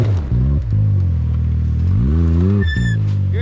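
An electric truck on 32-inch tires spins in snow, giving a loud, steady whining drone that rises and falls in pitch with wheel speed, with a brief higher squeal near the end.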